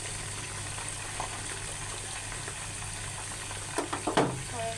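Bitter gourd fries in a pan with a steady, soft sizzle, and a few stirring scrapes and clinks come through near the end.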